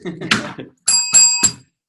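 A bright bell rings three quick times, ringing out clear and close right after a short burst of speech.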